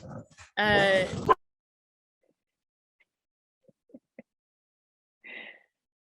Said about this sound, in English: the dogs are barking at a truck